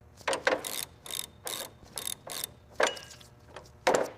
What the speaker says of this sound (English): We rely on these heavy-duty impact tools to separate the control arms from the subframe.